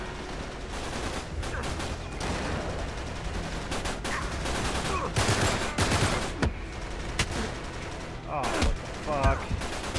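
Gunfire rattles through a firefight in Uncharted 3, with repeated bursts of automatic and single shots cracking loudly across the whole stretch while a man swears over the shooting.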